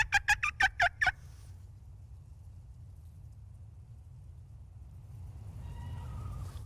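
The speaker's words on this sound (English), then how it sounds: "He gobbled after I called." A wild turkey gobbles in a quick burst of rapid, rattling notes, fairly close and loud over a low outdoor rumble, then the woods fall quiet.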